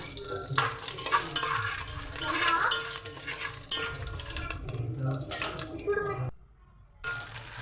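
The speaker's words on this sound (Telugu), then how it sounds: "శనగలు అయితే వేసేసుకున్నానండి బాగా వేపుకోవాలి హై ఫ్లేమ్లో పెట్టి బాగా వేపుకోవాలండి" Chickpeas roast in a pan on high flame. Close stirring scrapes and rattles mix with a soft sizzle, and a voice is heard faintly underneath.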